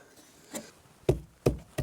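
Four hard knocks of a hand hammer striking, one softer then three loud blows in quick uneven succession, close up with no talking, while working on a treehouse floor.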